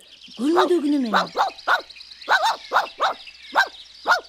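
Cartoon dog barking in a children's animated film: a quick series of about eight sharp, evenly spaced barks, close and loud, with a character's voice talking over the start.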